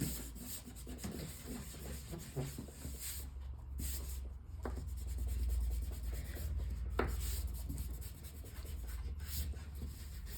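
Eraser rubbing back and forth on drawing paper while a cartoon fish drawing is finished, a soft, scratchy friction texture in close, uneven strokes and short bursts that continue steadily without any talking.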